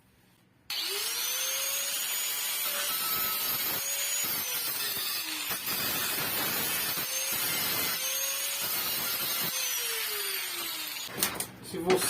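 A handheld power sander grinds steel ahead of welding, a loud continuous whine starting abruptly and holding for about ten seconds with slight pitch dips as pressure changes, then cutting off into clatter.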